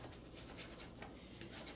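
A small scraper rubbing over a decal to press out bubbles, giving faint, repeated raspy scraping strokes close up, very quiet with no talk.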